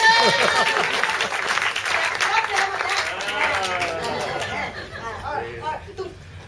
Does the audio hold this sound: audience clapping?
yes